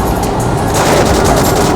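Rapid Vulcan cannon fire in a Dreamcast video game, a loud, dense stream of gunshots running continuously without pause.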